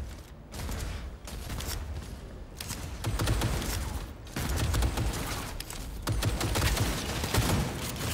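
Dense, continuous gunfire roars through a Cyberpunk 2077 firefight on an ASUS TUF Dash F15 laptop, a loud, sustained barrage with rapid overlapping shots and only brief dips, no speech on top.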